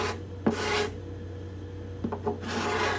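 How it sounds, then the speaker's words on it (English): A scraper rasps across the cedar top of a Desmond guitar while bindings and purflings are cleaned up, producing close, dry, woody strokes in a few bursts with brief pauses between them. No speech. "Different sound this cedar top makes when I'm scraping."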